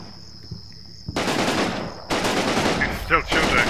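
Gunfire from the wargame Combat Mission Red Thunder arrives in dense bursts of sustained automatic fire over a steady insect-like background tone, with a brief voice near the end.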